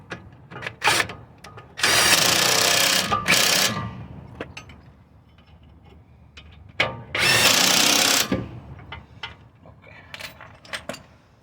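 A power tool drives 19mm nuts onto a Hyundai Santa Fe front CV axle in two loud bursts of whirring, each lasting about two seconds, separated by clinks and handling noise in a garage.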